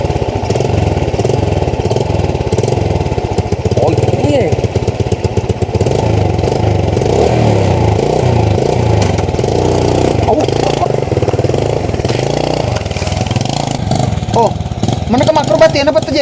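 A motorcycle engine runs steadily and loudly at close range for the whole stretch, with some rising revs near the end, while people talk over it.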